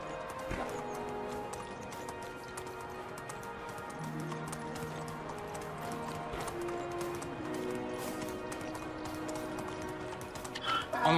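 A horse gallops in the medieval survival game Medieval Dynasty, a steady run of hoof beats under game music tones, with a louder thump right at the end.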